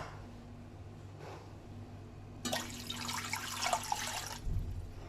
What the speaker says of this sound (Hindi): दो गिलास इसमें पानी डाल दिया।